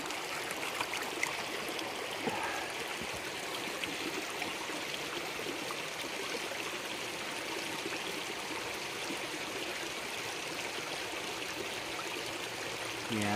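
Creek water runs steadily through a gold sluice in the Arizona hills, a continuous broadband rush and trickle that stays close and even from start to finish, with no voices over it.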